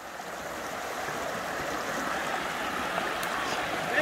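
River water at Tecomatlán, Puebla, flowing in a soft, steady rush that grows slightly louder, heard up close with no talking.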